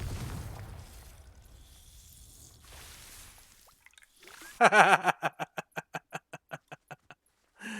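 A Confringo fire spell from Hogwarts Legacy strikes a snowman, bursting with a sharp explosive blast followed by a rapid string of crackling, decaying pops that trail off, then a brief final burst.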